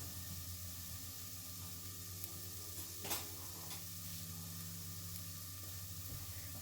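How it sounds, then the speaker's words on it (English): Onions sizzling softly in olive oil in a pan, a steady faint crackling hiss with a brief clatter partway through, close and quiet. "our onions. You can hear them starting. I love that sound"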